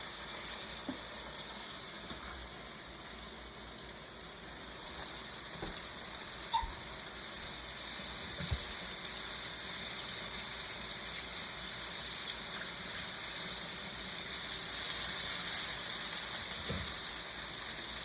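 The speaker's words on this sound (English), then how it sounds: "I love to smell liver frying." A steady, bright sizzle of liver frying in a hot pan continues throughout, with occasional faint clicks and taps.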